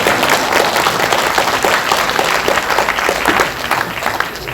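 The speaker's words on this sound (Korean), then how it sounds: "그럴 때 박수 치는 거예요." Loud, dense applause from an audience at a public hearing on presidential candidate unification polling, sustained close clapping with crowd murmur, steady from start to finish.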